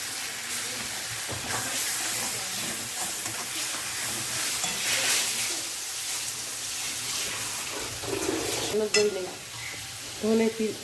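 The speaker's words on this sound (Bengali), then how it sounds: "আদা রসুন টমেটো কাঁচা লঙ্কা পেস্ট আমি দিয়ে দিলাম" Ginger, garlic, tomato and green chili paste sizzles in hot oil with fried onions for a Bengali cauliflower, potato and prawn curry, a steady hiss with stirring scrapes throughout and a few brief utensil clatters near the end.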